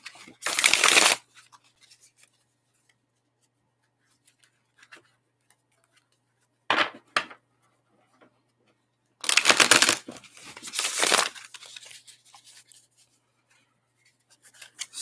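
Tarot cards are side-shuffled in short bursts of riffling and rubbing, with three distinct handling passes separated by quiet gaps, close and fairly loud.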